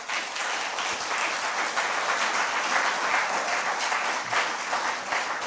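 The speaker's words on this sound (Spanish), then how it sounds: "Denle un aplauso," A church congregation applauds after a sermon, steady dense clapping filling the whole stretch at an even, fairly loud level with no pause.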